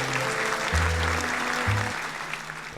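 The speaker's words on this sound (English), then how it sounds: "Clap it up, give it up." Applause closes out a reaction stream, a steady wash of clapping with low held musical tones beneath it.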